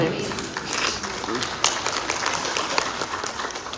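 A church congregation applauds during a sermon, a dense, steady patter of many hands clapping that carries on without a break.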